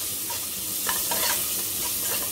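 Onions, green chillies and ginger sauté in a hot pan, giving a close, steady sizzle with a few scraping stirs over it.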